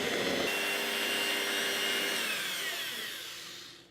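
An electric mixer whirs loudly and steadily as it beats batter ingredients in a bowl, the motor tone shifting slightly after the start and fading toward the end.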